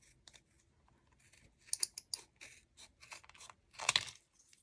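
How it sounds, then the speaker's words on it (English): Scissors snip through a strip of chipboard in a few crisp, close cuts, the loudest near the end, with quiet handling rustle in between. "maybe I would just cut this strip down"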